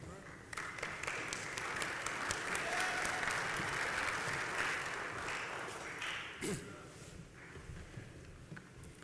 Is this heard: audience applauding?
yes